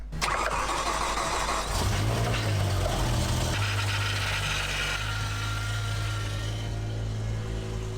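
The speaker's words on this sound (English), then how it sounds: "Well, the engine is pretty much completely reassembled now. So all that's left is, well, to start the car." A rebuilt BMW M6 V10 cranks and fires up, then settles into a loud, steady idle with a low droning rumble and a brief rise in revs near the start.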